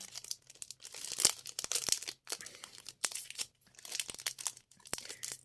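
Football card packets from a Süper Final 10th-anniversary collection series are torn open by hand, giving close crinkly tearing and crumpling foil rustles in repeated bursts with short gaps.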